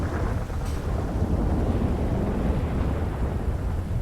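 A thunderstorm in a video game rumbles steadily as a dense, loud wash of thunder and rain with no pauses, heard alone without speech.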